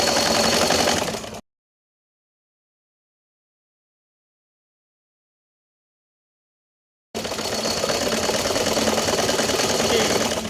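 Sewing machine zigzag-stitching fabric for a girl's top, in two dense buzzing bursts, a short one and a longer steady run, separated by several seconds of silence.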